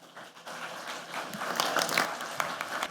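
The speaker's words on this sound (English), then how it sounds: "please join me in giving a warm round of applause to Christine News" Audience applause at a talk, a moderate, fairly distant patter of clapping that swells slightly and holds for a few seconds.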